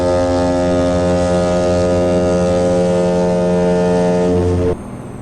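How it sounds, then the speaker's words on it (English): A truck horn in Euro Truck Simulator 2, heard from inside the cab: a steady, loud, deep multi-tone blare held for nearly five seconds before stopping abruptly, leaving a low cab hum. "And now I'll let you hear the horn inside the truck."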